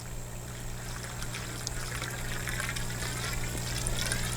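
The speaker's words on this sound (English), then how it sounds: "use a gallon bottle to fill this hose" Water trickles steadily from a gallon bottle into a garden hose for a compost tea setup, a soft continuous pouring sound with a low steady hum underneath, close and unbroken throughout.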